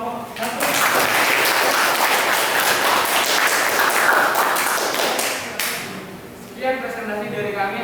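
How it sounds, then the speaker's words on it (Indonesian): Applause and tapping from a classroom audience after group 1 presents, a dense steady patter of claps lasting several seconds, fading briefly before a short burst of voices and more clapping. "Kasih aplaus untuk kelompok 1."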